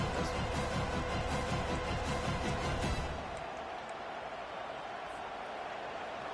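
Stadium crowd noise from the College Football 25 video game on a fourth down, a dense loud roar that dominates for about three seconds before easing to a steadier, quieter background murmur.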